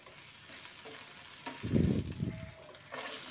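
Green chilies and ginger-garlic paste stirred in hot oil while making a filling for mini singara: a steady sizzle with a louder burst of scraping and frying midway, fairly close, no talk.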